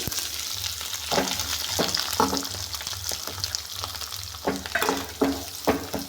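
Onions and chana dal fry in a pan with a continuous sizzle, broken by repeated scraping stirs of a spoon about every half second.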